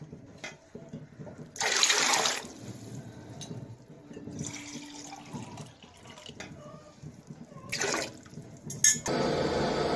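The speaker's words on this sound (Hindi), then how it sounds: "तो इसमें पानी भी मैं तकरीबन 4 कप डालूंगी क्योंकि मैंने काफी टाइम से सोक करके रखे हुए थे।" About four cups of water poured into a pot of long-soaked rice for beef keema pulao, heard as a few separate splashing pours, the longest early and two shorter ones near the end.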